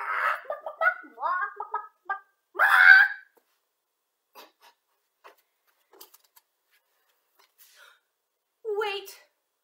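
A person imitates a chicken with a series of squawking, clucking vocal bursts followed by a longer honking cry, then quiet with faint sounds and a final short vocal squawk, close and unaccompanied.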